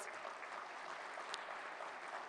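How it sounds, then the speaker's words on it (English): A conference audience at the opening plenary of the Africa Investment Forum gives a sustained round of applause, an even wash of many hands clapping, fairly distant and uniform. "Can we give them a round of applause?"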